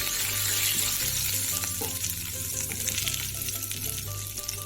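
Sugar melting and caramelizing with butter in a hot pan, a dense, steady sizzling hiss with a low rumbling hum beneath it, close and continuous throughout.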